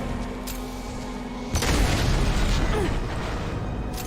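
A gunship in Mass Effect 2 blowing apart: a steady roar of in-game noise breaks into a loud, broad explosion that swells abruptly and then slowly fades away.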